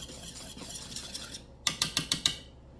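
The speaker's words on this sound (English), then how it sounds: "I'm just going to whisk those ingredients together." A whisk stirs flour and baking powder together in a bowl, first as faint scraping, then five sharp, evenly spaced metallic clicks as it knocks against the rim.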